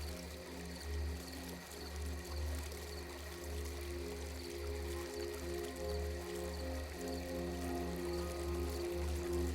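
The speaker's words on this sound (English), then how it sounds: "The fountain ahead creates a steady, gentle sound." A garden fountain flowing steadily nearby, its water splashing in a smooth, continuous wash with soft trickling and no voices over it.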